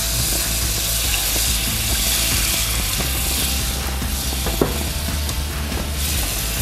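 Oil sizzling in a pan while cooking a pulled pork sandwich: a steady, dense hiss that holds at an even level throughout, with a few brief crackles and pops breaking through near the middle.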